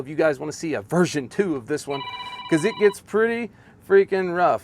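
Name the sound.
phone ringing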